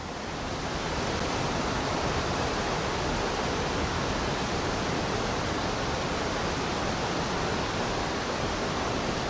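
Floodwater of the swollen Salgir river, fed by a release from the Simferopol reservoir, roars in a dense, steady broadband rush that stays loud and unbroken throughout, with no voices.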